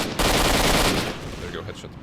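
A headshot gunshot in the video game S.T.A.L.K.E.R. Shadow of Chernobyl: one loud, close, sharp blast that bursts out abruptly and rings off over about two seconds.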